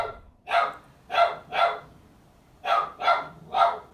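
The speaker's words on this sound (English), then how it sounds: "The dog is going." A dog barks six times in two quick bursts of three, each bark sharp, moderately loud and fairly close, with short quiet gaps between them.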